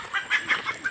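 A chicken clucks in a quick series of four or five short, moderately faint notes, close by.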